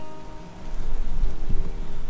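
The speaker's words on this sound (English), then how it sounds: "And the rain has come back." Rain falls outdoors in a town, a steady close patter on surfaces with a few louder low thumps, no voices.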